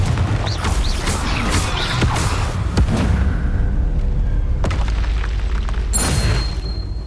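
A Confringo fire spell blasts in the Hogwarts Legacy video game with a loud, booming explosion amid dense rumbling combat effects, followed by further crashes and a bright ringing burst near the end.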